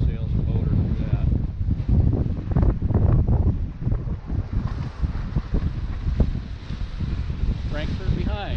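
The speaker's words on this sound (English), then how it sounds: "Winds blowing up, got about 17 knots apparent wind right now" Steady wind roars over a sailboat sailing close-hauled across Lake Michigan in September at about 17 knots apparent wind, loud and continuous with gusty buffeting, water rushing beneath, and a voice talking over it.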